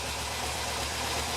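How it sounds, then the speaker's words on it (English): A Porsche 914 engine idles low and steady during tuning, a continuous even rumble with a faint knocking texture and no other sounds. "it's idling pretty low right now"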